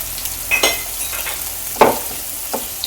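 Chopped onions frying in a pan for chilli paneer, a steady soft sizzle with a few sharp stirring clinks and scrapes of a spoon, no voices.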